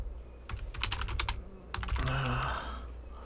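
Keys tapped on a computer keyboard while logging in: two quick bursts of sharp clicks, the first at a steady rhythm, the second faster and blurring into a brief rustle, close up with no talk.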